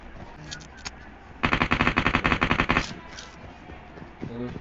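Rapid automatic gunfire from a mobile shooting game played on an iPad, a loud burst of about a second and a half standing out clearly over quieter background game sounds.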